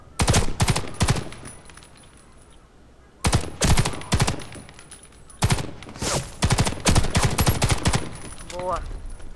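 Bursts of automatic gunfire in the online shooter Warface, loud rapid volleys separated by brief pauses, with a short voice line near the end.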